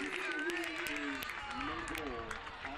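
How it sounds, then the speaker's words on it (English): Rochester Rhinos fans cheering and clapping at a soccer match, a broad crowd roar under a commentator's voice talking over it, steady and fairly loud throughout. "So the Rhino fans were up and cheering, but this one will be waved off."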